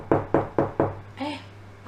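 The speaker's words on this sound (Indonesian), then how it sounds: "Ada yang ketok pintu lagi." Four evenly spaced, sharp knocks on a door, loud and close, followed by a short voiced sound.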